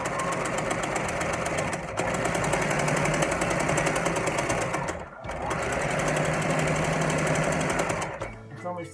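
A sewing machine quilting a fabric placemat whirs in a steady, close mechanical rattle, stopping briefly twice before running on.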